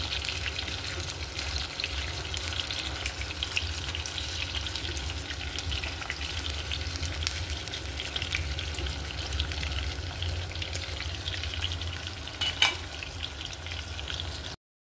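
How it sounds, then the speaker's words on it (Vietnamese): Bitter melon frying in oil in a pan makes a steady, dense sizzle that holds at an even level throughout, close and unaccompanied, with a few brief louder pops near the end. "Trong khi mình chờ chiên khổ qua thì mình làm nước sốt nha các bạn."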